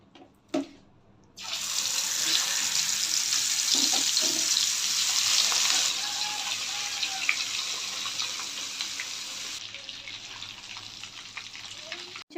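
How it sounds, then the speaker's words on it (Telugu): Fish coated with chili powder, masala and salt deep frying in hot oil for a kanagadathalu fish curry, a loud, steady sizzling hiss that starts abruptly and runs continuously, easing slightly toward the end, with no talking. "ఈ చేపలకి ఇలా మసాలా పెట్టుకొని ఆయిల్లో వేసి డీప్ ఫ్రై చేసుకోవాలి"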